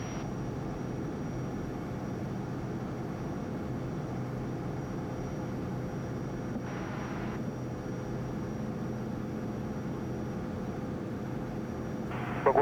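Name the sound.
Vision Jet climbing after takeoff, landing gear retracting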